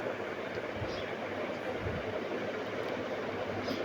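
A train rumbles steadily throughout, a broad continuous roar of rail wagons rolling along the track, loud and close with no pauses or voices.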